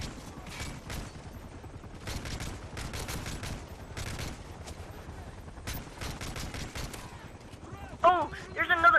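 Video game gunfire crackles in rapid bursts during a shootout, with repeated automatic volleys separated by short pauses, fairly close, and a voice briefly heard near the end.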